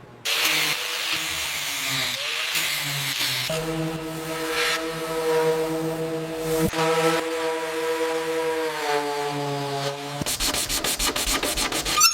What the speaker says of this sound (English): make sure you use the course wheel for that crusty area.